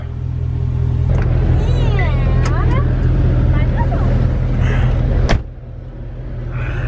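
A pickup truck door thumps shut near the end, after a steady, loud engine rumble and the sound of someone moving inside the cab, with talk over the noise.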